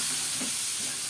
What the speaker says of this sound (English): As our ground pork is cooking